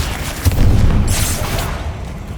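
A Bombarda blasting spell goes off in the Hogwarts Legacy video game, a heavy, close explosion whose low rumbling boom swells and sustains for about two seconds, with a hissing burst of debris partway through and no voices.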